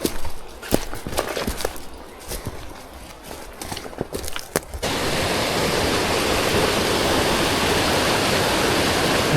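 A swollen creek on the Hedrick Lake Trail in northern BC runs high with spring meltwater, a loud, close, steady rush. It starts suddenly partway through, after scattered footsteps and light clatter on the trail.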